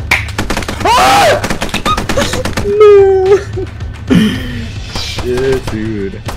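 Rapid bursts of automatic gunfire in the military shooter game Squad crack loudly in close succession, mixed with other game sounds and excited shouting voices.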